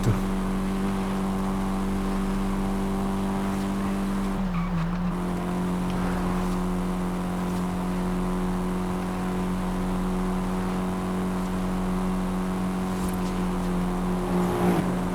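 A Mitsubishi Starion driven in Forza Horizon 5, a steady loud engine drone with a brief dip and gear shift midway, faint tire noise and passing traffic, alone without talk.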